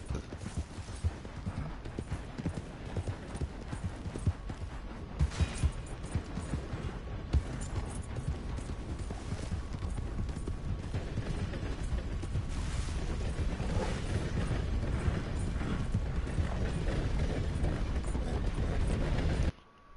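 A horse gallops in the Red Dead Redemption 2 video game, a steady hoofbeat rhythm buried in a dense, continuous wash of mechanical, rattling game sound that builds slightly and then cuts off at the end.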